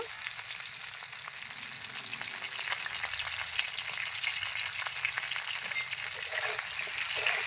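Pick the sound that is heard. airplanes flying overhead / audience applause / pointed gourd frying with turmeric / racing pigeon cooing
pointed gourd frying with turmeric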